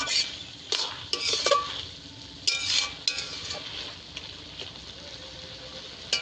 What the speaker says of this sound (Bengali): জিরেটা দিয়ে ভালো করে একটু নেড়ে দেবো